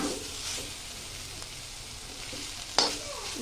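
Mixed green vegetable sabji with aubergine stirred and frying in a home pan: a steady low sizzle runs throughout, with a few scraping stir strokes and a sharper clatter near the end, no talk.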